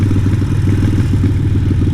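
Harley-Davidson 883 Iron bobber fitted with a Vance & Hines exhaust, idling with a steady deep, loud, lumpy rumble that runs unbroken and close, with no voices.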